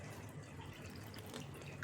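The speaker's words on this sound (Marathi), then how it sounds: "यामध्ये थोडंसं पाणी घालायचं आपल्याला," Water poured into besan (gram flour) dhokla batter makes a faint, steady trickling splash that runs unbroken with no voices.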